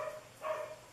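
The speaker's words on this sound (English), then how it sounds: "Sorry for my dog barking." A dog barks once or twice, faint and brief, somewhere in a quiet room where birthday cards are being stamped.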